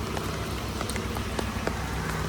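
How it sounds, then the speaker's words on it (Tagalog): Heavy rain falling in Hong Kong the day after a typhoon, a steady dense hiss of rainfall with scattered nearby drips and splashes, continuous and fairly loud throughout with no voices. "lumalakas talaga yung ulan"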